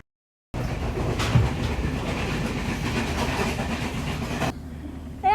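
A train to Kandy rumbles along steadily from inside a carriage, its wheels clattering on the rails with a constant roar before the noise drops off near the end.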